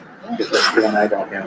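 A single sneeze bursts out suddenly during a committee meeting, close and sharp, with speech around it.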